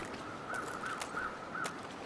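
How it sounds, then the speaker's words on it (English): Birds in The Long Dark video game give four short, evenly spaced caws over a soft wind-like background hiss, fairly faint and distant. "Okay, I hear birds."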